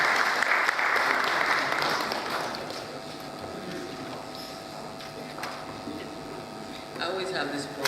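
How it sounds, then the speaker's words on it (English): Applause from a conference audience, loud and dense at first and thinning out over several seconds as the next speaker heads to the podium, with faint voices and movement underneath and a brief swell of clapping near the end. "A round of applause for her as she comes to give her vote of thanks."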